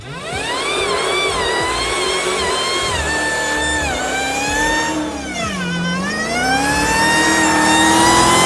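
A supercharged car engine revs up and down in repeated swells, its high supercharger whine rising and falling like a jet over the engine roar, loud and close with no talking.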